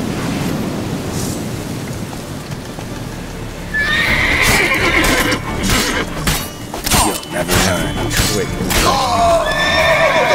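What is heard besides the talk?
horse neighing and clip-clop in video game The Witcher 3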